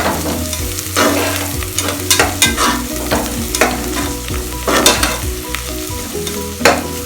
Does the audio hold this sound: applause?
no